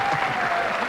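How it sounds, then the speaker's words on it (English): Applause and cheers at the Allan Border Medal Night, Australian cricket awards, 1999: a dense burst of clapping from a ballroom audience, steady and close throughout the brief moment. "What about a cheer for the wives?"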